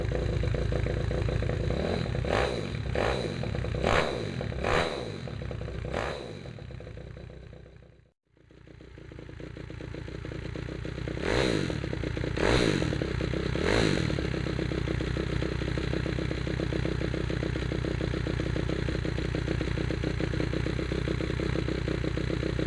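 A 4-valve motorcycle engine is kick-started in a series of rhythmic bursts, cuts out briefly, then catches and runs with a steady, loud rumble.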